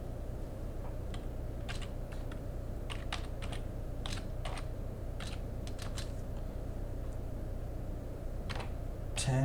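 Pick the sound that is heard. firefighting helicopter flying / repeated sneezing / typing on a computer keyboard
typing on a computer keyboard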